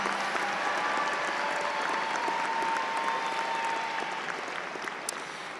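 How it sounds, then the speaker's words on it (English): High school graduation audience applauding the graduates, a broad, steady roar of many hands clapping in a large venue, sustained and slightly easing toward the end. "let's clap for them"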